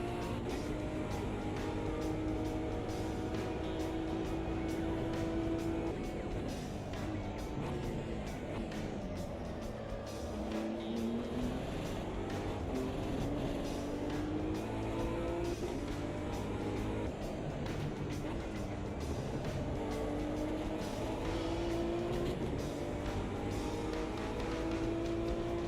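A racing video game car engine labours uphill, a continuous droning hum with shifting pitch and occasional revving, steady and fairly quiet throughout.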